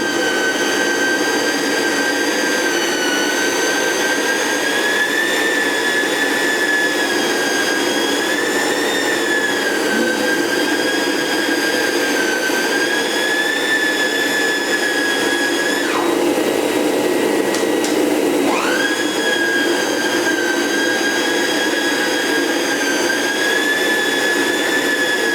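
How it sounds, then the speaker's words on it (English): A Prolux Storm carpet shampooer running on a Rainbow E2 black vacuum cleaner while shampooing a rug: a loud, steady high-pitched whine throughout, with one brief pitch drop and recovery midway. "I'm going to now shampoo this rug and show you guys how it works."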